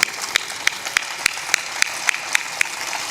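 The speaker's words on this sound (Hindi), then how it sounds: "महिलाओं की तालियों में तो दम है और पुरुषों की तालियां तो मुर्दा है।" Audience applause at a spiritual discourse: a thin, sparse patter of clapping with regular sharp claps standing out, fairly loud and steady.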